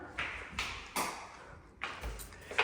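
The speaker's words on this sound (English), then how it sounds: "start turning off some of these lights as I'm going." Several light switches in a house's master bathroom are flipped off one after another, each giving a short, sharp click or tap at an irregular pace, close by and fairly quiet in a small room.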